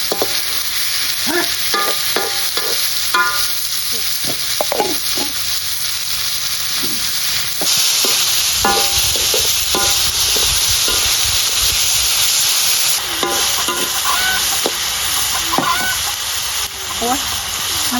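Wild boar meat stir-fries in a hot pan, sizzling loudly and steadily while a utensil scrapes and stirs in irregular strokes; someone talks intermittently over the cooking and fowl cluck faintly in the background.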